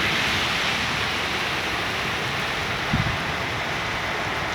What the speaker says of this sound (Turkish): Yağmur yağıyor Malatya'da.